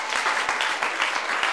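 A church congregation claps steadily throughout, a dense, continuous applause with faint rhythmic thumps underneath and no speech.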